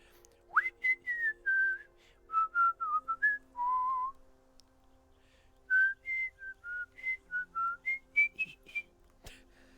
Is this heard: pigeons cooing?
no